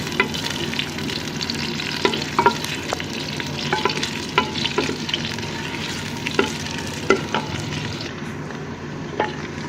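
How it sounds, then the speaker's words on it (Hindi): Onions fry and sizzle in hot ghee in a handi as they are stirred, a steady crackling hiss broken by repeated scraping and clinking strokes of a spoon against the pot. "अब हम इसमें प्याज डालेंगे, और प्याज को हम लाइट ब्राउन कर लेंगे।"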